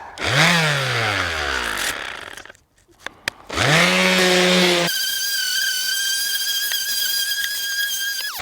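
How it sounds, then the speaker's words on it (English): A power sander rounds off the rough edges of a wooden shelf, its motor whining up to speed twice with a short pause between, then holding a steady high-pitched drone. "I'm just going to do a bit more sanding on the edges just to round this off a bit"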